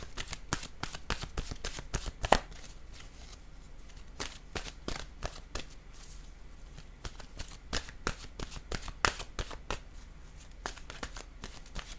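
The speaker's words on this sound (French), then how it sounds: "je vais piger maintenant une carte de mon oracle de l'âme" Oracle cards being shuffled by hand, a dense run of quick, crisp riffling flicks and taps that repeats close and quiet for several seconds with no talking.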